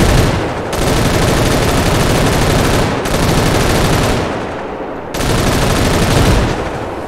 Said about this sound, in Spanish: Fíjense cómo dispara.